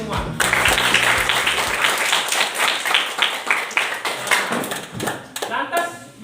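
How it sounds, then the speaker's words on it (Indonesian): A classroom group of students claps for the first group, a lively patter of many hands that rises quickly, then thins into scattered claps. Voices talk through it. "Berikan dulu aplaus kepada kelompok 1."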